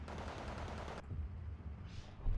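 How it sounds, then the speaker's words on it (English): An IL-2 ground-attack aircraft strafes infantry in the Steel Division 2 wargame, a rapid burst of automatic gunfire for about a second, then a low rumble with a distant whoosh. "IL-2 is strafing infantry in the open"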